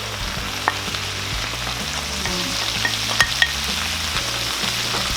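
Chili peppers frying in a pan with salted black beans nearby, a constant loud sizzle with a rhythmic stirring scrape underneath and occasional pops, no voices.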